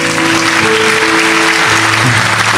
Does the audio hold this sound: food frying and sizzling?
no